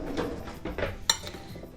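Several quick clinks and scrapes of a utensil against a dish, irregular and close, as food is stirred.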